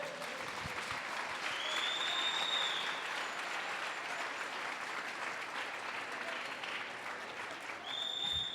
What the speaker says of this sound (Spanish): déle una ofrenda de palmas a Jesús.